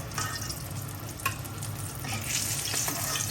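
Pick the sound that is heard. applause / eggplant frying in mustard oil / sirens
eggplant frying in mustard oil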